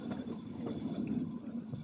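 A Himalayan Railway train runs along curving mountain track with a low, continuous rumble of wheels and carriages. It stays fairly faint and steady, with slight rhythmic clatter throughout.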